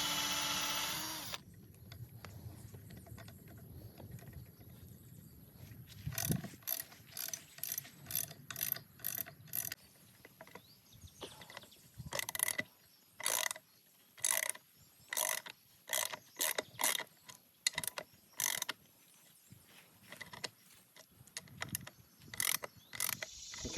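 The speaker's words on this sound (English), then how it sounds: "he's pre-drilling here to install some lag screws in these locust logs" A drill bores pilot holes into locust logs for lag screws outdoors, giving a series of short, whirring mechanical bursts with ratcheting clicks, spaced irregularly with quiet pauses between them.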